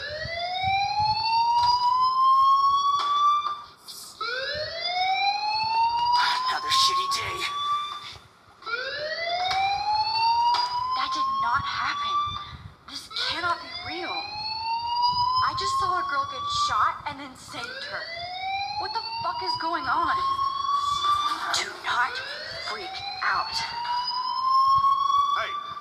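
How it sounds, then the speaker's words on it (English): An alarm wails in the video game Life is Strange, a loud rising siren-like sweep repeating about every four seconds for the whole stretch, with faint clatter and other game sounds in between. "The alarm tripped me out."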